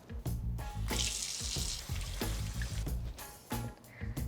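Water runs from a kitchen tap as basil and parsley are rinsed, a loud close splashing stream that changes as the herbs move under it, with brief pauses and surges.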